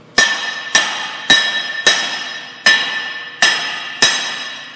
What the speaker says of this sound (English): And then just tap it off with a hammer.